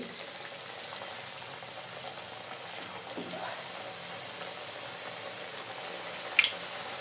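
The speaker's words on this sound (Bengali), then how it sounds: "আস্তে আস্তে ভেজে নিব" Meat pitha frying in oil gives a steady, low, even sizzle throughout, with one brief clink near the end and no talking.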